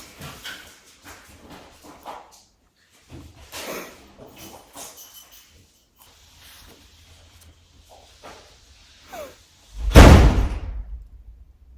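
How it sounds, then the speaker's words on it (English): A household door is shut loudly, giving a single heavy slam near the end after a stretch of quieter shuffling and movement sounds. "Does your brother close their doors really loudly?"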